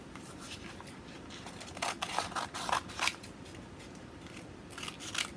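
Scissors snip a small piece from a workpiece, several sharp close cuts in a quick uneven run with quiet handling between them.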